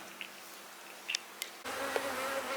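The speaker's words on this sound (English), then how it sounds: "we're back out in the bee yard" Honey bees buzzing in an outdoor bee yard: a faint, steady hum that swells louder about midway and then holds as a continuous drone, with no talking.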